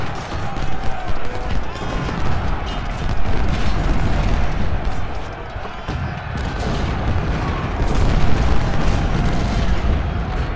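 Cannon and artillery fire rumble through a dense battle soundscape in the Civil War strategy game Ultimate General, with continuous booms and a steady loud roar over about ten seconds.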